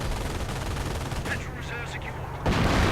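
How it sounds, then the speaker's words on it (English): Dense, continuous gunfire and explosive rumble from a World War II video game battle with a 25-pounder artillery barrage and machine gun fire, loud and sustained, briefly thinning before surging again near the end. "we see an actual 25 pounder barrage going in"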